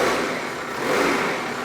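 A 2001 Toyota Solara engine, in gear with the foot brake on, revs under light throttle, a loud continuous close-up roar that swells slightly mid-way.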